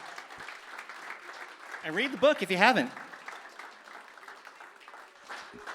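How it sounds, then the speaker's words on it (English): Audience applause for a performer at a Bushwick Book Club live music night in 2022, a moderate wash of clapping that swells briefly in the middle while a host keeps talking over it. "Let's keep the round of applause going"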